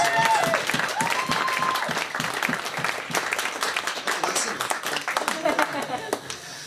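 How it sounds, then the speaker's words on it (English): Wedding guests clap for the bar and table staff during the speeches, a round of applause that starts full and gradually thins into scattered individual claps, with a voice over it at the start. "So just a quick round of applause for them"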